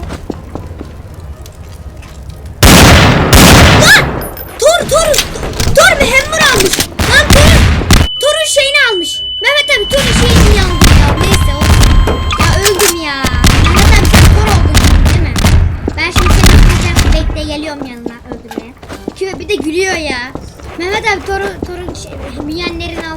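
A rocket is fired in Garry's Mod Counter-Strike, heard as loud booming blasts and thuds spread across the stretch, mixed with excited talk and laughter from players.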